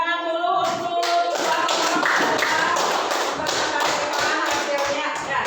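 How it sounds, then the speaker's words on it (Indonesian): Students in a classroom clap their hands together in a dense, steady patter of many claps that lasts for several seconds, following a brief moment of other sound at the start. "Tepuk tangan dulu untuk"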